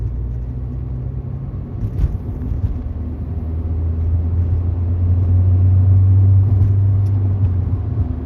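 A 2003 Toyota Yaris TS sport hatchback engine drones steadily in fifth gear at about 2000 rpm, a loud continuous low rumble that swells slightly midway with no talking.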